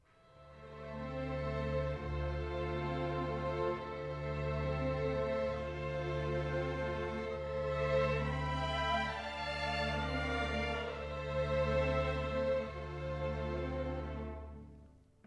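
Sustained string-family music, warm and legato, plays for about fifteen seconds with steady low bass notes under layered bowed harmonies, swelling gently in a few places; no voices.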